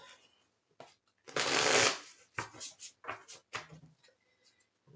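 A deck of oracle cards being shuffled by hand: a dense, loud riffle burst near the start, then a run of quicker separate card flicks and slaps, tapering to faint rustles; no one talks.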